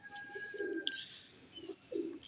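A pigeon gives a few soft, low coos in short phrases with pauses between them, near but quiet, against faint chirping from other birds.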